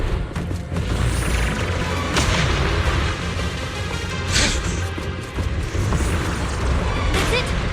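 Cocoon blasts going off in the video game Zenless Zone Zero, a run of heavy booms and crashing impacts over a continuous rumble, with a voice speaking during them.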